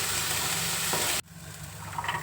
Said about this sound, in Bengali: একটু ভালোভাবে নাড়িয়ে নেব